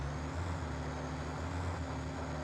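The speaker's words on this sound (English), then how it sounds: "This truck sounds like a monster." Heavy truck engine in the video game Satisfactory, a deep steady low rumble with a constant droning hum running throughout, loud and close with no talk over it.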